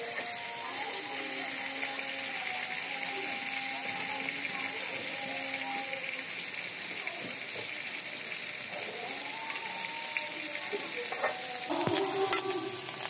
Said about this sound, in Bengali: আর একটু ভালো করে লাল করে ভাজি, তাহলে খেতে ভালো লাগবে